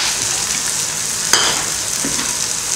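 Onions and green chilies sauté in a pan for a vegetable stir-fry, giving a continuous close sizzle with a brief utensil clink partway through.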